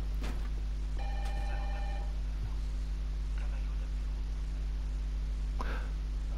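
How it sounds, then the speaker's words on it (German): A telephone bell rings in short bursts, a couple of rings against a loud low hum, with some faint background voices. "Telefon."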